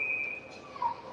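A referee's whistle sounds at an ice hockey game involving the Cleveland Barons: a sustained shrill tone that drops in pitch partway through, heard at a distance over a low arena murmur.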